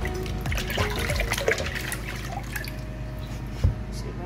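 Water running and trickling while a pineapple is washed with vinegar water, a steady close splashing flow with small drips and a few sharper splashes.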